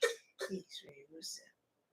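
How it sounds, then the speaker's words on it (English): A woman gives a few short, forced coughs and throat-clearing bursts, a deliberately fake cough. Four quick, close voiced bursts come in just over a second, followed by silence. "She's definitely fake coughing"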